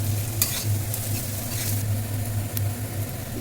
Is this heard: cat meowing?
no